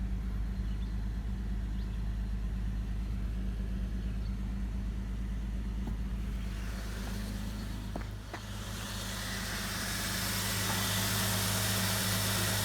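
Salvage Jeep engine running after a battery jump start, a steady low idle rumble that swells into a louder, brighter roar near the end.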